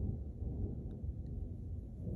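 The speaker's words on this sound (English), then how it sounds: "Did you hear that thunder?" Low, distant thunder rolling steadily beneath a quiet indoor room, a continuous faint rumble without sharp cracks.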